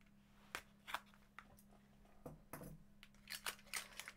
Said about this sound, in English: Oh, bust it open, scissors again.